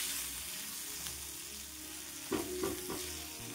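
Green chillies and garlic roast in oil with a soft, continuous sizzle, broken by a few clattering stirs near the end.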